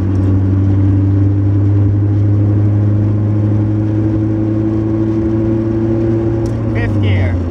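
A manual five-speed car pulls hard in fourth gear, giving a loud, steady engine drone with a deep, even hum that holds throughout at close range and rises only slightly.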